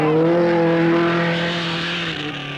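An Opel Ascona rally car races on the 1972 Monte-Carlo Rally, its engine holding a loud, close, strained tone that dips slightly in pitch as it moves away.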